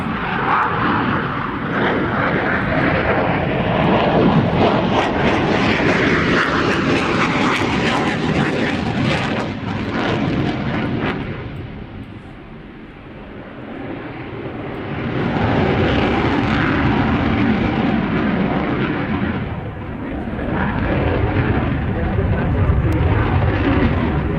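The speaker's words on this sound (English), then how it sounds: "The Polish MiG-29 display from Royal International Air" A Polish MiG-29 jet fighter flies a display at the Royal International Air Tattoo air show, with a loud roaring jet engine that swells and fades as it passes, dipping midway and then building again.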